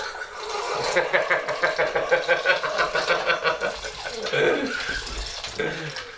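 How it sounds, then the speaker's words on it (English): Broth pours from a container into a cooking pot in a home country kitchen, a gurgling, rhythmic glugging stream that lasts several seconds, with quiet chuckling in the background. "We're gonna put in a little broth, a few cups."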